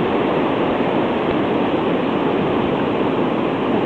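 Hurricane Ike's storm surge floods a beach road, with water and waves making a loud, continuous roaring wash like surf, unbroken and close throughout.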